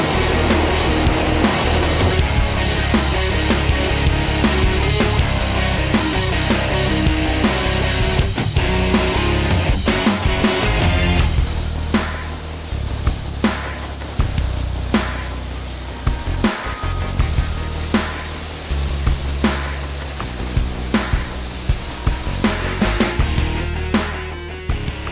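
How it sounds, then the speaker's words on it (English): A steady, continuous hiss of a spray gun applying a second coat of primer to a truck bed, running almost unbroken with faint clicks and shifts in tone partway through. "we got the bed all prepped and ready to spray a second coat of primer on it"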